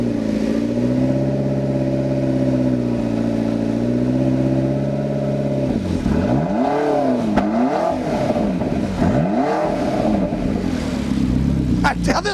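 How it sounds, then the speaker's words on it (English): A 600-horsepower hot rod engine idles with a steady, loud rumble, then revs in several rising and falling sweeps, close by, with voices heard over it. "Let's see what 600 horsepower sounds like."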